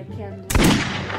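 A gunshot in the Roblox Piggy video game cracks out suddenly halfway through, loud and close, with a broad burst that rings briefly before fading, preceded by quieter game background and a voice.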